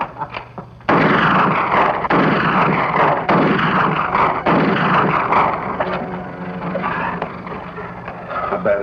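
Sharp gunshots and heavy blasts crack repeatedly in a wartime drama battle scene, one isolated shot followed by a dense barrage of loud, overlapping reports that taper into scattered firing.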